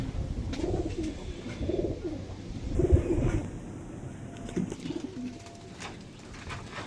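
Pigeons coo in soft, repeated throaty calls, fairly close, with a faint steady background hum.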